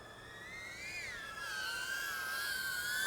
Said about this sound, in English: Very nice, smooth drone. You can hear the noise.